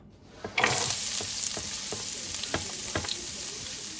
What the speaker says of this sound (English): I'm going to add the onions and start sauteing them.